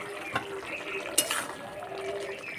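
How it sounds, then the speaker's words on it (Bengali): A cooking pot of rice has its lid lifted with a metallic clink, then a utensil scrapes and stirs the grains. The sounds are brief and close, over faint background noise. "চাপাটা খুলে একটু নেড়ে দেবো যাতে তলাতে লেগে না যায়।"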